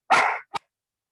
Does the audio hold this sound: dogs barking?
yes